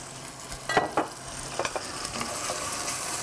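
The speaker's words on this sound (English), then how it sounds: "Now the next step will be to, of course, add some wine." Wine poured into a pan of browned meat for bolognese hisses in a steady low sizzle, with a few scraping stirs and clinks near the start.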